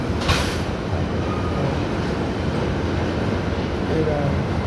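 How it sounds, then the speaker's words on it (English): New York City subway train riding, a continuous loud broadband rumble heard from inside the car, with a faint intermittent screech and a person talking over it. "I'm on the train right now"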